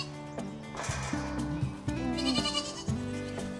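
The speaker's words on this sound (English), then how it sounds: "Come on, goaty goats." Several goats on a homestead bleat in a rapid overlapping series near the gate, loud wavering calls close by, with no talking underneath.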